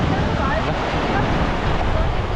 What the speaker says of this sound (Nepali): यस्तो छ यतिखेर छालहरू आहा मजाले